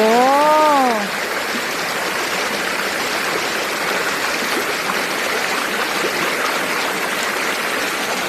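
Strong floodwater rushes steadily down a creek after rain at Wang Thalu in Thailand, a dense, continuous roar close by; a brief tonal call sounds at the very start.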